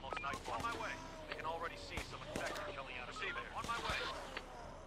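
Gunfire in a zombie city-builder defense game crackles in quick bursts of sharp shots, mixed with game effects and someone talking over the action, fairly faint overall.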